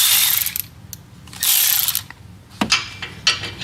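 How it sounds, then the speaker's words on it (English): A ratchet with a 5/8 socket backs out fender bolts on a Ford Bronco, giving bursts of fast, close metallic clicking separated by short pauses, with a few sharper knocks toward the end. "we're going to take our 5/8 socket and remove those."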